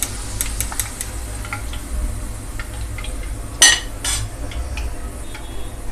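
Fried moong dal is scooped out of hot oil with a metal utensil, giving scattered light clinks and scraping taps over a steady low sizzle, with one sharper clatter near the middle.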